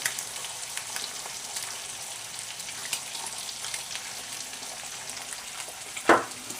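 Egg frying sunny side up in a pan, a soft continuous sizzle and crackle with scattered small pops and one sharper spit near the end, close by and with no talk.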